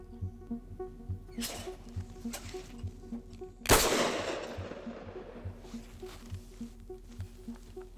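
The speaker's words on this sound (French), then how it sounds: "Lors de chaque tir, une cartouche est éjectée et l'arme se recharge automatiquement." A single sharp shotgun blast cracks out during a hunting licence clay shooting exam with a semi-automatic gun, loud and echoing outdoors, among faint clicks and quiet background noise.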